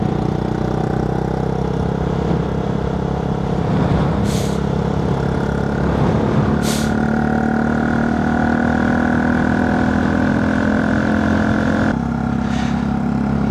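Honda Monkey 125 fitted with a Scorpion titanium exhaust with the baffle in, running at a steady, loud drone throughout with a couple of brief sharp bursts over the continuous engine note.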